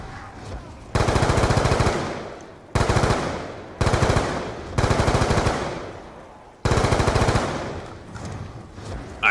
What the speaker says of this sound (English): this gun is still killing nicely